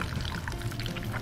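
Excess garlic-infused frying oil poured out of a pan holding cooked shrimp, a steady liquid trickle at close range that runs continuously on its own.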